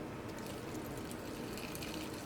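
Water is poured in to grind coconut chutney, a faint, steady trickle with low background rumble and no talk.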